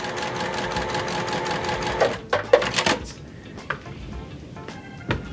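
A sewing machine stitches halves of a quilt block together, its needle running in a steady rapid whir that pauses partway, followed by a few clicks and handling sounds.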